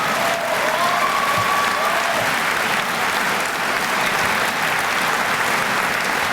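A large crowd at a high school graduation applauds steadily and evenly, a dense wash of clapping that holds at the same level from start to finish.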